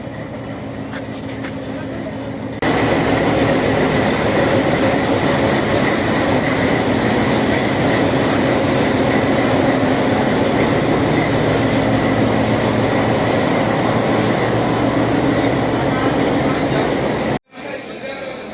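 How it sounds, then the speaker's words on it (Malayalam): The Nilgiri Mountain Railway's old-type train engine runs as a loud, continuous rumbling roar heard close by, rising sharply after a few seconds and holding steady, with people talking faintly underneath. "Train engine"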